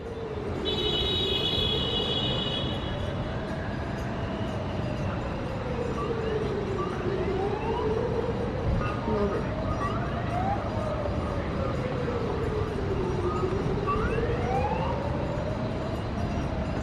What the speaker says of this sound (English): That's a siren there.